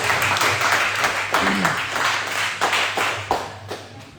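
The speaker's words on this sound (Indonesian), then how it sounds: "Kita berikan tepuk tangan kepada dua delegasi" Applause from the audience at a national law debate competition after the two delegations finish, a few seconds of mixed clapping with a low hum underneath and some voices among the crowd.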